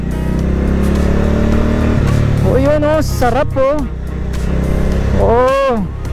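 A Benda Napoleon 450 motorcycle on a test ride gives a continuous low engine drone while someone talks loudly over it.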